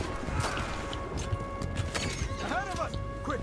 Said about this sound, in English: ¡Mi caballo!